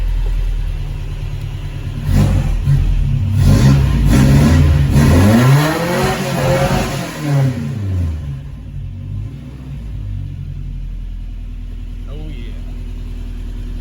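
A vintage Toyota 4x4 truck engine, started after sitting a year, revs up with rising and falling pitch, then settles into a steady idle; a voice speaks briefly near the end.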